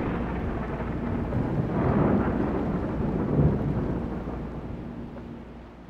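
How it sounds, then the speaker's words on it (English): Thunder from a lightning storm over the sea rumbles low and broad. It swells twice in a few seconds and then fades, with wind buffeting underneath. "That lightning is hitting the ground."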